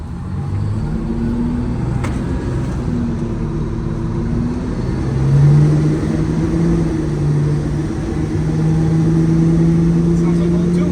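An old fire truck engine rumbles low and steady as it drives around the block, the tone swelling and shifting as it moves, heard nearby for about eleven seconds with no talk over it.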